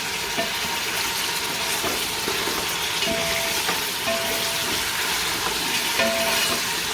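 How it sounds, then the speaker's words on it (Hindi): Chunks of mutton sizzle and fry in a pan over a low flame, a steady close hiss with faint stirring scrapes and no talk. "ये गोश्त को फ्राई होते हुए तकरीबन 4 से 5 मिनट हो गए"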